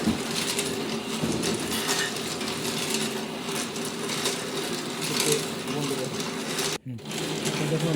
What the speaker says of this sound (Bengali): তিন প্যাস দেওয়ার পরে কিন্তু আমাদের মেশিন অটোমেটিক কিন্তু বন্ধ হয়ে যাবে